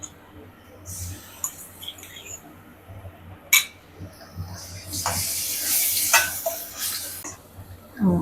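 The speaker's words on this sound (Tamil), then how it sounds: "இஞ்சி பூண்டு நல்லா வதங்கிச்சு" Ginger and garlic sauté in a pan with a soft sizzle, cut by sharp spoon clinks and scraping against metal, a louder stirring burst midway, and a voice speaking at times in between.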